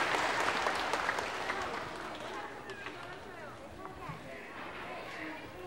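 Audience applause in a 1983 Korean television studio during a broadcast reuniting separated families, a dense, steady clatter that slowly fades, with faint chatter beneath.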